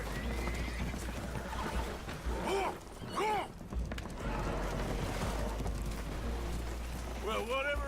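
Spooked horses in Red Dead Redemption 2 whinny shrilly several times aboard a boat taking on water, with hooves clattering and a low rumble of water and wind beneath, alongside talk.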